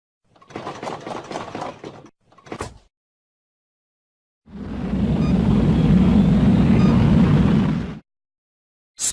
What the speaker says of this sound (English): Space rocket.